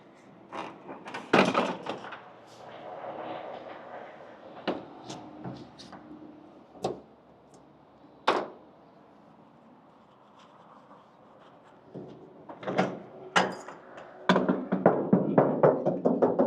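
A door is opened during a roadside stop, giving a series of sharp clunks and knocks spread across otherwise quiet surroundings, with a denser cluster of rattling handling sounds near the end.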